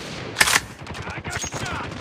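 A short burst of gunfire in Call of Duty Mobile gives one sharp loud crack and then rapid softer shots, with game voice chatter around it.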